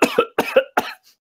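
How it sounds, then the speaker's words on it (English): A person coughs alone in a short run of four or five rough, hacking coughs. The coughs come close together and are fairly loud and close by. "Lots of coughing."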